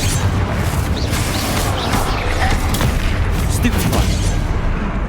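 Confringo fire spell explosions in Hogwarts Legacy, a loud dense barrage of booming blasts and crackling impacts across five seconds, mixed with a voice and other combat sounds.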